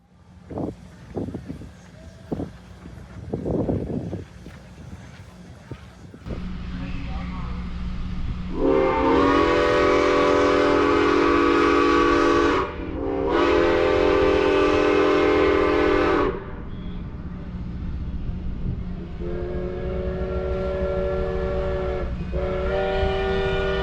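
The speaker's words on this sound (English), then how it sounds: "Just after 1 p.m., both trains whistle off at the same time." Two long, loud steam train whistle blasts sound in succession over a rumbling locomotive on the Cumbres and Toltec railroad, followed by shorter whistle toots, with some handling noise at the start.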